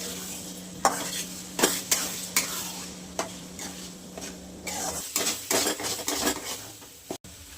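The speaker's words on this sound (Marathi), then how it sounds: "ते 10 अंडी मी फोडून घेतल्या त्या. त्याला परतून घेणार आहे." Ten beaten eggs stir-fried in a pan with green chilli for an egg chutney, giving a steady sizzle with repeated sharp scrapes and clinks of a spatula against the pan, close and loud, with no talking.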